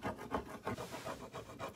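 Hand rubbing on a wall art project of Victorian roses, a soft rhythmic back-and-forth rasping with about seven close, quiet strokes.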